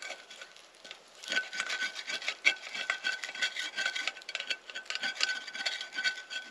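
Cooked egg being scraped off a pan at a woodland campsite, a continuous dry rasping scrape with repeated strokes throughout, close and fairly loud with no talking.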